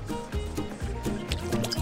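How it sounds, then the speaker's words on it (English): Milk is poured into a container on a cow farm, a short steady liquid splash with soft glugging pulses, close and moderately loud. "let's pour the milk inside here"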